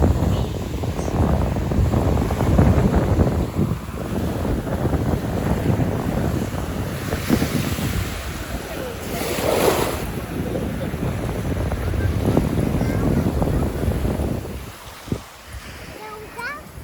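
Ocean surf washes in on a beach at Daman over strong wind noise buffeting the microphone, with people talking and calling out over the rushing water.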